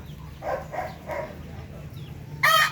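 Soft clucks from native hens on a chicken farm come in a short series of bursts, then a sharper squawk at the end, fairly close with a quiet background.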